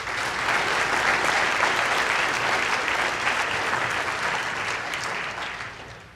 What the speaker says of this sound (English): Let's give this entire group of scholarship winners a big round of applause.